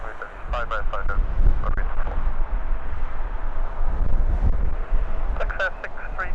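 Gusty wind at Farnborough airfield buffets the microphone as a steady low rumble throughout, with faint radio voices breaking in at the start and end.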